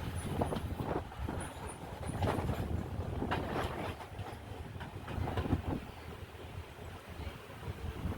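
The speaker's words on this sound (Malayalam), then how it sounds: "കടയ്ക്കാവൂർ റെയിൽവേ സ്റ്റേഷനിലേക്ക് ട്രെയിൻ എത്തിയിരിക്കുകയാണ്." An evening express passenger train pulls into Kadakkavoor railway station, heard from aboard as a low rolling rumble with soft irregular wheel clatter and faint high squeals near the start.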